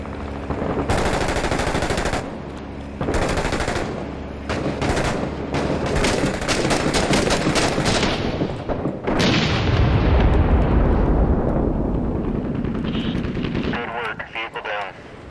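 Sustained machine-gun bursts, gunshots and heavy booms of explosions in the video game 6 Days in Fallujah, loud and close, firing in rapid volleys with brief gaps and a big blast near the middle, with voices talking over the combat.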